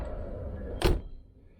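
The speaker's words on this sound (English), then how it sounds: "pull the door to." A car door is pulled shut with a single solid thunk midway, heard close against low background rumble.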